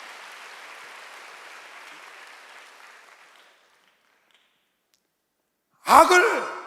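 Applause from a church congregation during a Sunday worship service, a soft broadband patter that fades out into silence, followed by a short sharp vocal burst like a sigh.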